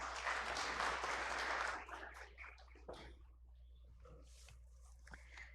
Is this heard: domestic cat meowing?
no